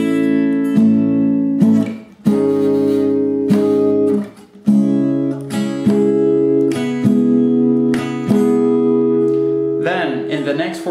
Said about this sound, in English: So those four bars should sound like this.